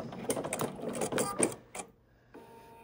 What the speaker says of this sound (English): I am just going to do the first bar tack here